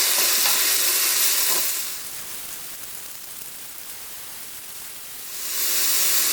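Mushrooms and onion browning in a Moulinex Cookeo multicooker give off a dense, close sizzle with a hissing, rain-like texture that dips to a softer frying bed midway before swelling back to full loudness.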